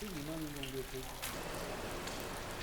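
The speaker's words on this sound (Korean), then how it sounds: "그렇게 조금씩 내리던 비는 날이 저물며 점점 굵어집니다" Rain falls on a children's summer camp as evening comes on, a steady faint hiss of drops that fills the air, with a brief soft voice at the very start.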